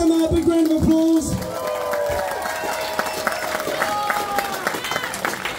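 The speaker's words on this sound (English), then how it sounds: "Ladies and gentlemen, please give Emma a big round of applause." Audience applause for an entrant in a chilli eating contest at an outdoor chilli festival: a steady crowd clatter of clapping with some cheering, running for several seconds after an opening burst of voices and tones.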